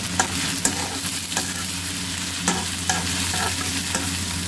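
Sliced onions sizzle in a little oil in a pan for a fish mash, giving a steady close hiss with occasional stirring scrapes and pops, and no one talking over it.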